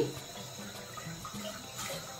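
Water is poured over drained spaghetti, making a steady, soft splashing rush, faint and continuous for a couple of seconds.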